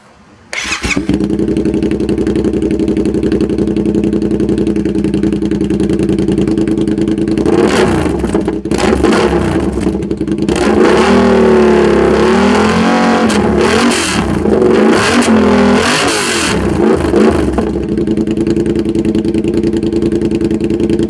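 Loud, raw exhaust of a Yamaha FZ-07 with a DanMoto XG-1 full exhaust and no baffles idling with a deep rumble, then revved hard several times in sharp, crackling bursts before settling back to idle.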